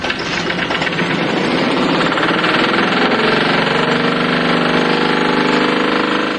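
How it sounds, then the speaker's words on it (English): An engine converted to run on a hydride fuel made from ammonia runs steadily and loudly, giving a dense continuous mechanical rattle and roar with no talking. "It is the fuel that powers this engine."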